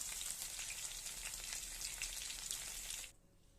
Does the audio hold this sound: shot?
no